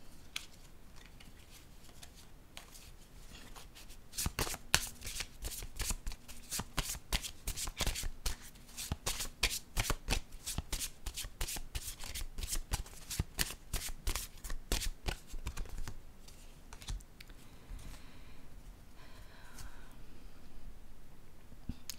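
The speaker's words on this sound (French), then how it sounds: "je vais déposer une carte ici pour voir si il y aurait une suite" Tarot cards are riffled and shuffled in long runs of rapid, close, crisp flutters. Quieter slaps follow as the cards are set down, and there is no talk.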